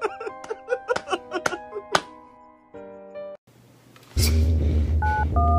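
Telephone keypad tones beep in a quick run of short presses, followed by longer held tones and then a louder burst of noise with a buzzing line tone near the end.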